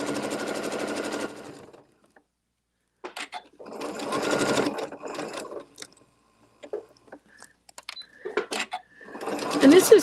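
A sewing machine stitches in several short, rapid bursts separated by quiet pauses, close and clear, with brief sounds of handling in between.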